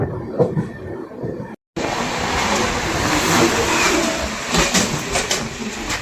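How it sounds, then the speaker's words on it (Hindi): The Ganga Express passenger train overtakes and crosses the Vande Bharat Express, giving a loud, continuous rushing rumble of wheels on rails after a brief cut, steady and close for several seconds without speech. "Ganga express overtake, Vande Bharat express के साथ क्रॉसिंग।"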